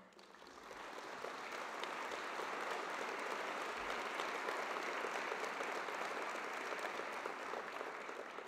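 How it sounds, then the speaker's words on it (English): A large convocation audience at Cal Poly applauds student leaders, a dense, steady wash of many hands clapping that swells in over the first second and holds evenly, with no voices over it. "Would you stand or wave and give them a big round of applause?"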